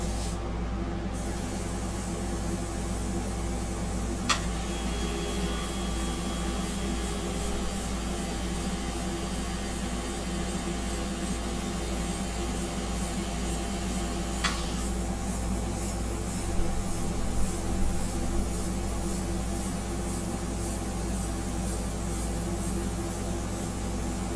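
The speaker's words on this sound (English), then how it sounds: "My airbrush is really doing what I want it to do." An airbrush sprays India ink in a soft, continuous hiss that runs steadily throughout, fairly quiet and close, with a couple of faint brief clicks and no speech.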